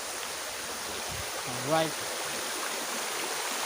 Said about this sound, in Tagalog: Ayun na yung Panindingan Waterfalls.